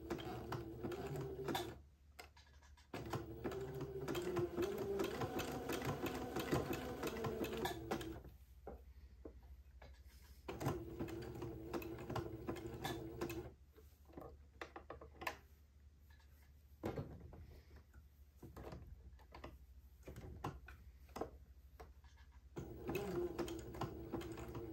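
A sewing machine runs on a diaper shirt in quick, close bursts of rapid ticking stitches broken by short pauses, fairly quiet, with no talk.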